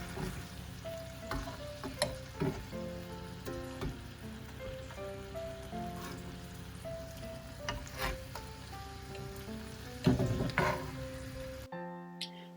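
Lemon salmon fillet sizzling steadily in a frying pan after being flipped, a dense continuous crackle with scattered pops and light utensil taps, close and fairly loud, ending abruptly.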